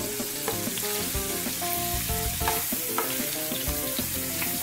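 Ground beef hamburger patty with onions, jalapeno and green peppers frying in a pan, a steady close sizzle with crackling pops and a few utensil clinks as it is flipped.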